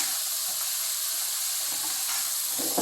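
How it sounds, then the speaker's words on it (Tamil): Shredded cabbage sautés lightly in a pan for fried rice, giving a soft, even hiss and sizzle close by with faint stirring scrapes and no talking. "ஃப்ரைட் ரைஸ்க்கு கோஸ் ரொம்ப வதங்கக்கூடாது, லைட்டாக வதங்கணும்"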